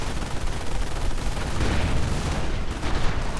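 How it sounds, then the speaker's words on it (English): Heavy machine gun fire from half-tracks in a WWII strategy game battle, a dense continuous rattle of gunfire with booming blasts, loud and sustained throughout. "heavy machine gun fire from the half-tracks are really making this a risky proposition"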